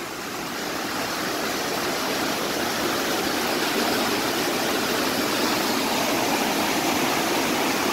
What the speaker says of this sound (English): Look at this beautiful little waterfall I found.